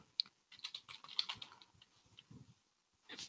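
Typing on a computer keyboard while working in the Oracle Cloud console, a quiet run of uneven clicks over about three seconds with short pauses and a brief burst at the end, alone without talk.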